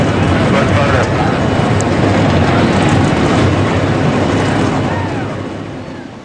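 Stock car engines crank and fire up in the NASCAR Racing 2003 video game, a loud, dense, continuous roar that tapers off slightly at the end.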